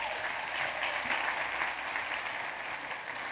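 An audience claps steadily in a room for about three seconds, dense and even, at moderate level with no voices over it.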